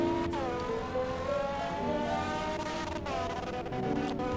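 Ford Fiesta drag build in the Roblox video game accelerating to top speed: a loud engine winding up through repeated rising sweeps, with sharp shift breaks between them and no talking.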